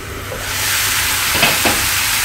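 Long beans sautéing with softened tomato in a hot pan give a loud, steady sizzle close by, with a couple of brief stirring scrapes partway through and no speech.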